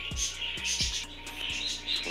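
Pet birds kept indoors near potted Carolina Reaper pepper plants chirp in short, repeated tweets at close range, with no talking.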